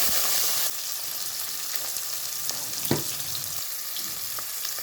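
Shallots and garlic fry in a pan with a close, steady hiss and crackle, louder at the very start as they go in, then settling into an even sizzle with occasional stirring knocks.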